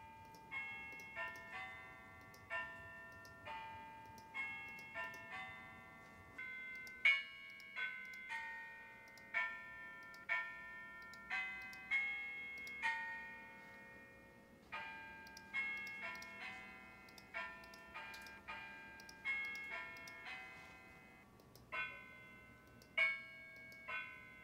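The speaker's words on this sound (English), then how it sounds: "That was Hail to the Orange on the virtual Altgeld chimes." The fight song Hail to the Orange rings out on virtual Altgeld chimes, a bell-tower carillon sound with a steady melody of struck bell tones, clear and alone with no talking.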